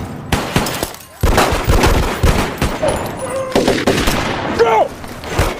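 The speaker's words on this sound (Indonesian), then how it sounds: "Hingga terjadilah aksi tembak-tembakan ala-ala EPEP." Gunfire in a film shootout scene from Triple 9, with dense bursts of shots throughout at close range, mixed with shouting and brief voices in the middle of the exchange.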